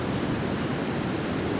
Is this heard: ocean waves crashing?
yes